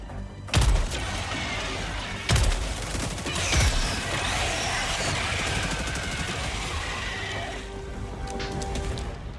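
Laser fire from a drone in a shooter video game: loud sharp bursts near the start, then a dense, continuous crackling barrage with hissing noise throughout, no talking.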